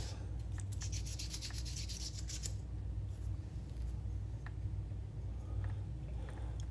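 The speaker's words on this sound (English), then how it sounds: "Using some sandpaper. This one is 220 grit." Rubbing on ceramic with 220-grit sandpaper, a steady soft scratchy hiss during a kintsugi restoration, heard close with short faint strokes later and no talking.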